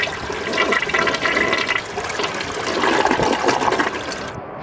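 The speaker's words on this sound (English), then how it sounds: "Toilet." A toilet flushes up close with a loud, continuous rush of swirling water that swells and then drains away. The flush cuts off abruptly at the end.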